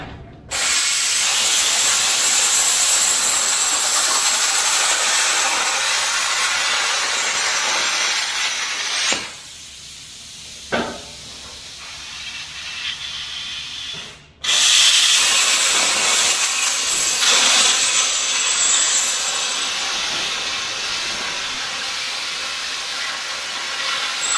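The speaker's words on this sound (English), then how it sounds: "So I'll use my plasma cutter to cut this out." A loud, steady hissing roar of a plasma cutter slicing through steel, broken by a few brief pauses before the cut resumes.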